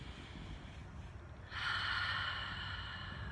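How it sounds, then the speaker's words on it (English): A slow, audible in-breath through the nose during a quiet, calming guided meditation, rising from near silence and holding steady as a soft airy rush with no talking. "breathe in"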